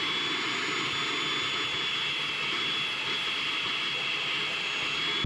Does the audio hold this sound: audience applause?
no